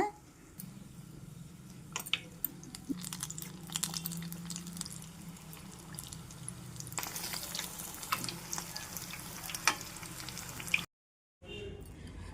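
Capsicum bajji frying in hot oil, a steady close hiss and crackle of bubbling batter with scattered sharp pops, running for about eleven seconds before a brief cutout; little else is heard.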